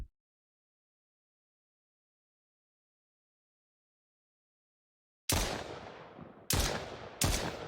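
Three sharp gunshots fired at a character in a video game, after about five seconds of silence, each loud and punchy with a short decaying tail, evenly spaced toward the end.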